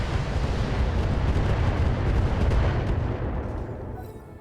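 Catapult mechs fire in the BattleTech game, a sustained heavy rumble of launches and blasts that rolls on loudly before thinning out at the end.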